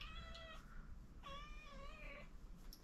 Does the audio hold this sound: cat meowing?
yes